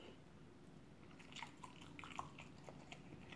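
Close, quiet biting and chewing on a Korean fish cake bar, soft crunchy and moist mouth sounds continuing steadily.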